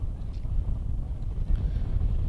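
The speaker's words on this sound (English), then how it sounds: "you can hear through the effects mic that it's blowing a gale" Gale-force wind buffeting an outdoor cricket ground during a women's Charlotte Edwards Cup semi-final, a constant loud low roar with gusty swells, heard alone.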